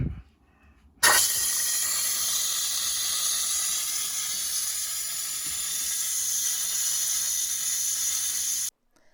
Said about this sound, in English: I'm going to go ahead and let the steam out of this one